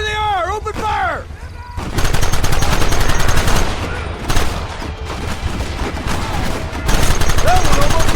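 Rapid gunfire in a Red Dead Redemption shootout: dense, loud bursts of rifle and pistol shots crackling almost continuously, with a shouted voice briefly over the start and brief lulls between volleys.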